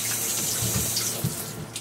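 Water running steadily in a shower, a continuous hissing spray with no talk over it.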